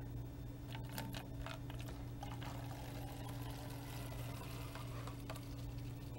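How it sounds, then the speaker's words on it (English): Water poured steadily into a container at a bar, filling it in one continuous, close stream with no talking. "So, as you're filling this up, I really hope we have enough water here."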